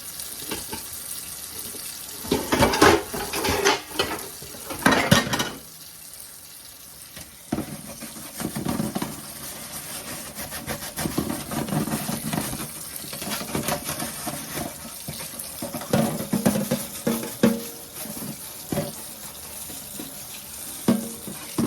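A dirty dishwasher is scrubbed with a brush while tap water runs, giving irregular bursts of splashing and scraping strokes close by, with no talk.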